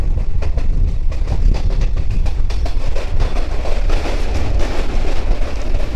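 The Jammu Tawi Express at a platform of Kolkata (Chitpur) station: a loud, continuous low rumble with rhythmic clanking of the carriages, heard close and without voices.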